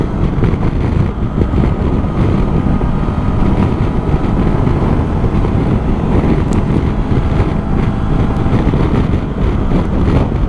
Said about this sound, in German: Deshalb kriege ich jetzt sehr viel Wind hier ab.